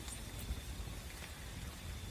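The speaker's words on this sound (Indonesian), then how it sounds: "Ini di situasi hujan ya." Steady, dense patter of rain falls throughout, heard from inside a cave at night, a constant soft wash of noise with no voices.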